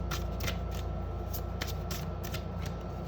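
Tarot cards are shuffled briskly in a steady riffling rhythm, close up, with repeated soft flutters and no talking.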